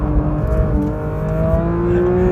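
A 2022 Porsche 911 GT3 on a race track, its engine loud and close, holding a steady high drone with pitch sliding slightly as the throttle is worked through a slide.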